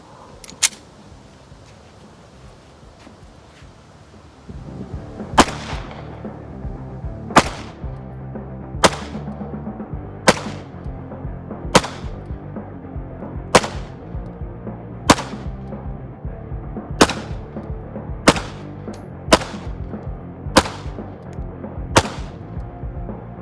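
A ZEV OZ9 pistol fitted with a Trijicon red dot fires about a dozen single shots at a slow, even pace, each a sharp, loud crack, following a quiet stretch at the start.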